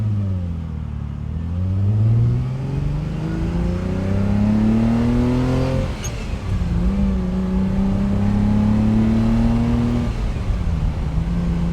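A 1967 Ferrari 330 GTC with its V12 engine revving and pulling away, loud and close, the engine note rising through gears, dipping briefly at a shift, then climbing again steadily with no talk.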